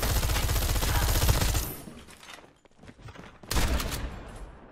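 Rapid shotgun fire in the mobile shooter game Call of Duty Mobile, a dense loud burst of blasts, then a short quieter gap before another sharp volley.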